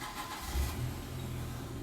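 Cars passing outside an open garage, a medium engine hum swelling briefly and then settling into a steady low rumble, faint and distant, with no one talking.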